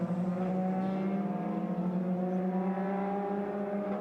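Ferrari cars, including original XX Programme cars, roll down the pit lane at Imola's Autodromo Enzo e Dino Ferrari during the Finali Mondiali show, a fairly faint, steady engine drone with a slowly rising tone, heard from some distance.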